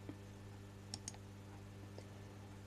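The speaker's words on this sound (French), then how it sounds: "donc je vais cliquer ici" Two quick, faint computer mouse clicks sound in close succession against a quiet, humming background, followed by a softer third tick a second later.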